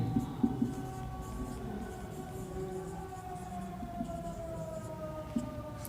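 A physics equation is written out during a lesson as steady, soft scratching and tapping of a pen, with a faint constant electrical hum underneath and no speech.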